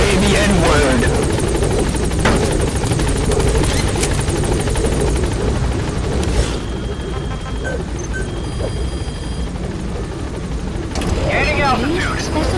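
In the Metal Gear Solid V video game, a helicopter climbs and gains altitude with a loud, continuous rotor roar and whine. Radio-style voices and game sounds are heard over it.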